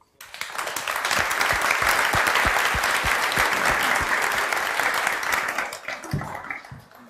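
An audience claps for two architects, Pierre-Louis Faloci and Inês Lobo, in a dense, loud burst of applause that swells quickly, holds steady, then thins out to a few last claps.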